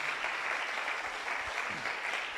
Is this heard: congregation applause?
yes